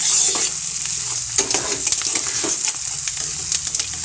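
Onions fry in a pan, giving a loud continuous sizzle broken by repeated scraping stir strokes, close up and with no voices.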